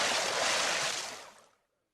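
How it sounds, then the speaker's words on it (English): A loud, broad rush of water splashing in a cold river, as if someone is thrown in, holding steady for about a second before fading quickly to silence. "And so the friar threw Robin into the cold water."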